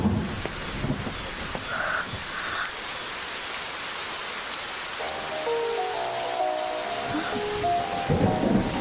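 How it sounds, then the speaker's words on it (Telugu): Steady rain hisses throughout, with a faint low rumble and some scattered tonal sounds toward the end. "వర్షం పడింది"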